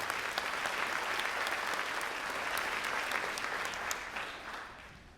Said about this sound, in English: So, full applause for Emma.